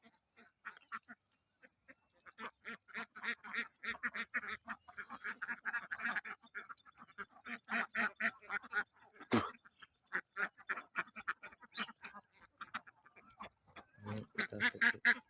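A flock of domestic ducks grazes on grass on a foggy morning, quacking in rapid, overlapping bursts that keep going nearly nonstop at moderate distance.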